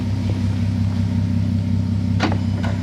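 A Golf R32's engine idles with a steady low rumble and hum, close by, with a couple of faint clicks over the top.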